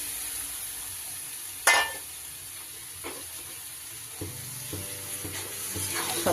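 Boiled vegetables sizzling in a pan with prawns and onions, a steady broad hiss of frying throughout, with one sharp clatter early on and occasional soft stirring scrapes, close and unaccompanied by talk.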